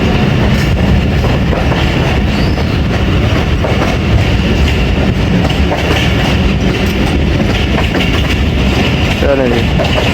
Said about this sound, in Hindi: गुजरात से निकल गई हमारी ट्रेन।